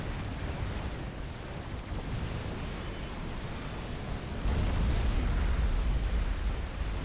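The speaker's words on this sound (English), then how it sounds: "Big TAC missile battery firing a shot in here" A TAC missile battery fires in the real-time strategy game Forged Alliance, a deep rumbling launch and blast swelling midway through and holding as a loud, low roar amid ongoing battle noise.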